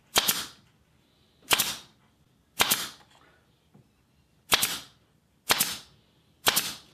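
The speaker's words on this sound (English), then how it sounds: "I was pinning on with the pin gun." A pin gun fires into a wooden box's halving joint, six sharp loud snaps spaced roughly a second apart, each standing alone with quiet between.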